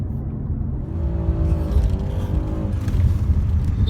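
Mercedes-AMG C63s engine rumbling from inside the moving car, a steady, loud, low drone with a slight rise in pitch midway.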